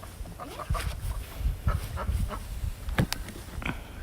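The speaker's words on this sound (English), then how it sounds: "She is a cayuga duck. So her type of duck does quack." A Cayuga duck, fresh from a swim in a small filled pool, quacks in short, scattered bursts close by, with a person talking over and between the calls.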